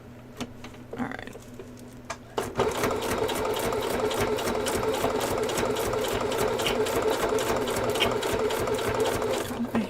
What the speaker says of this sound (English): I hate the sound of sewing through the angry side of Velcro.